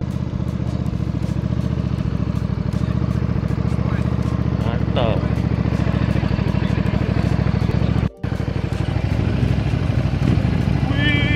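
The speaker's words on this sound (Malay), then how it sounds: "Ada letup-letup lagi engine dia." A motorcycle engine runs loud and close with a steady, throbbing rumble and occasional sharp pops from the exhaust, while a person speaks over it.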